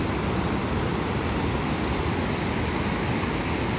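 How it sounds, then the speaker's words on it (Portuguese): Rio Salgado river water rushing toward the Castanhão reservoir in Ceará, Brazil, a steady broadband roar of flowing water that stays loud and constant from start to finish with no voices. "toda essa água aqui vai pro Açude Castanhão"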